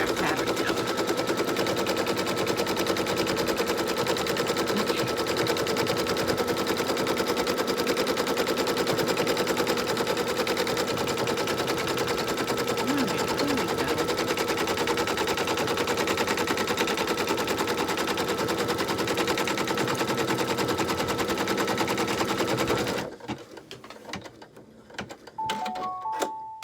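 An embroidery machine stitches a placement line for a machine-embroidered placemat, sounding as a loud, steady, rapid mechanical buzz that runs continuously for over twenty seconds before stopping abruptly.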